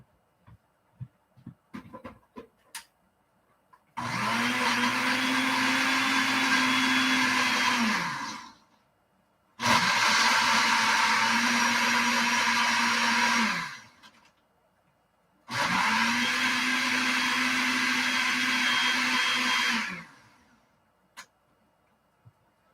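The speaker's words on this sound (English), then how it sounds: "And now I'm going to blend it." A Ninja blender whirs through three separate bursts of several seconds each while blending a smoothie, loud and close, with short silent pauses and a few clicks between runs.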